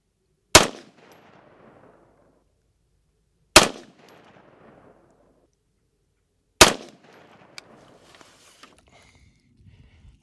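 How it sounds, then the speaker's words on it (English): Three single rifle shots of .223 77 grain match ammunition, fired at 50 yards, each a loud sharp crack followed by a brief decaying echo, spaced about three seconds apart, with faint clicks and handling noise after the last. "That's a pretty decent group for three shots at 50 yards."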